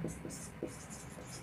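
Chalk or a marker scratches briefly across a board in a maths lecture room, with a few faint short strokes and a low room hum underneath.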